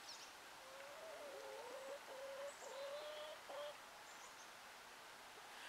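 Young hens out in a yard make soft, faint clucking and cooing calls, a few short repeated notes drifting over quiet outdoor background noise.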